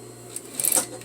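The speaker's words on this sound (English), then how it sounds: "I'm going to start sewing. So again, I'm sewing a quarter seam, starting at the side seam." A sewing machine runs a short burst of stitching along a quarter-inch seam, a quick whirring clatter in the middle of a brief, otherwise quiet moment over a steady low hum.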